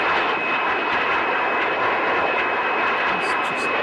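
A de Havilland DH100 Vampire jet in Microsoft Flight Simulator 2020 roars with a loud, steady broadband engine rush and a thin high whine running unbroken from start to finish.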